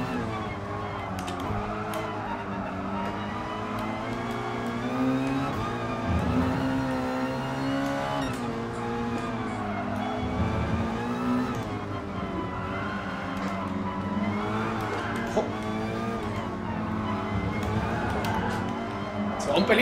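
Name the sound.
Honda Sports VGT race car engine in the video game GT Sport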